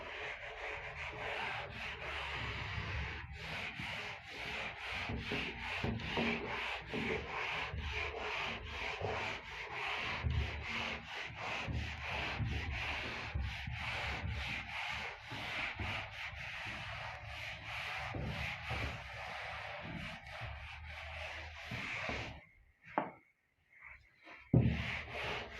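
A board being rubbed clean with an eraser during a maths class, a long continuous scrubbing and rubbing noise with rhythmic strokes, close and fairly loud, ending in a few short brushes and pauses.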